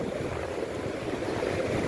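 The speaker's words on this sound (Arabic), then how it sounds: "وموج البحر النهاردة عالي جدا" High sea waves crash by Qaitbay Citadel in Alexandria, a steady, close, loud roar of surf mixed with gusty wind buffeting the microphone, and no voices.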